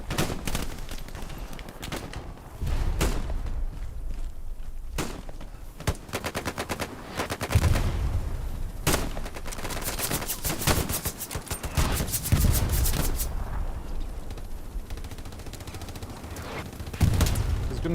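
Heavy gunfire in the video game Hell Let Loose, with rapid machine-gun bursts and scattered single shots rattling almost continuously, loud and close, punctuated by occasional deeper booms.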